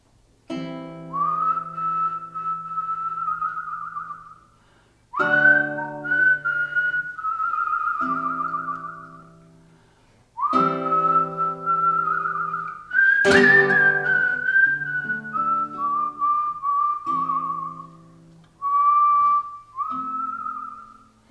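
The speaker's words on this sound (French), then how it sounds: "sifflez au vent ce petit air" A clear melodic tune is whistled in several long phrases separated by short pauses, heard alone over a soft sustained backing tone.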